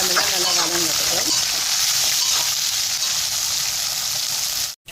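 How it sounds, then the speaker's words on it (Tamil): Onions sauteing in a pan for a vegetable pizza, giving a loud, steady sizzle that fills the whole stretch with little change before cutting off abruptly. "இப்போ இந்த வெங்காயமெல்லாம் நல்லா வதங்கட்டும்."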